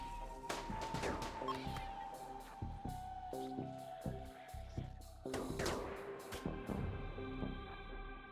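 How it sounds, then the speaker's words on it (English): Gunfire in the colony game Rimworld crackles in scattered bursts of sharp shots and impacts, some close together, with brief pauses between volleys and a faint tone hanging underneath near the end. "Keep shooting them"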